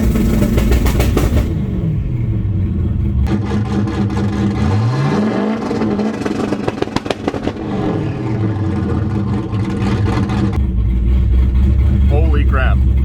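A turbocharged LS-powered Camaro held on a two-step launch limiter at about 2,000 RPM, a loud close engine with harsh stuttering pops and rising and falling revs that build and drop several times.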